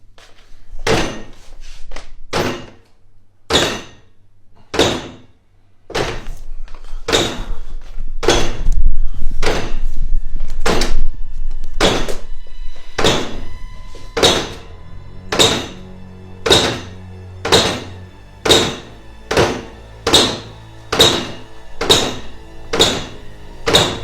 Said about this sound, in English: Banging coming from down here now, like violently loud